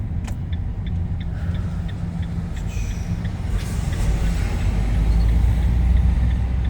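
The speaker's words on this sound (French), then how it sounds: "Et les camions de champagne en face." Champagne delivery trucks rumble past on a country road through the Champagne vineyards, a steady low engine drone growing louder with a faint hiss of air brakes, no voices.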